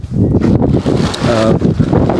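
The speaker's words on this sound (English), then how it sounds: "And it's windy today" Gusty wind buffets the microphone, producing low rumbling bursts that rise and fall throughout.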